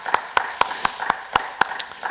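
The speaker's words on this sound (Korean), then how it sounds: "소망의 말씀을 주신 하나님 앞에 우리 영광의 박수 올려드리겠습니다." Church congregation clapping in a steady, even rhythm, about eight to nine crisp claps spaced evenly, moderately loud with no talk over them.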